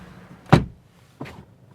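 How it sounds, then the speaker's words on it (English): The door of a 2025 Mercedes-AMG CLA 35 coupe shuts from inside with one solid, close thunk, followed moments later by a softer second knock in an otherwise quiet cabin. "So let's hop inside and let's close the door."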